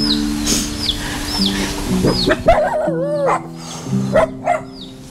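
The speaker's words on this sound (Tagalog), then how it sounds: "Medyo maingay lang yung mga aso ni nanay." Several dogs bark and yip in short bursts, fairly close, over a steady background hum with chicken clucks mixed in.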